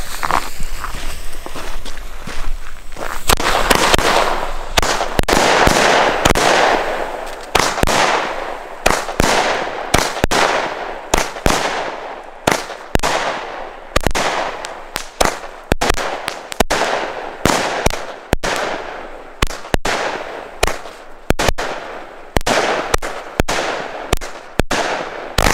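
Argento Jadedrache firework battery firing outdoors, a loud rapid sequence of bangs and crackles that settles into evenly spaced, sharp report-like shots toward the end.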